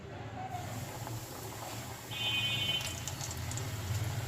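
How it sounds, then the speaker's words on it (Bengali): Homemade chicken pieces drop into oil at high heat for deep frying. A faint background hiss swells into a louder, steady close sizzle about halfway through and continues to the end. "এখন এই গরম তেলের মধ্যে এটা ফ্রাই করবো ডুবো তেলে"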